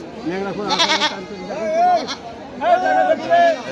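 Goats bleat several times amid a crowded, chattering goat market in Rustampur, their wavering cries rising over the voices nearby.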